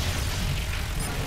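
A grenade explosion in the video game Evolve: one short, dense burst of low rumbling boom that fills the whole moment, with no voices.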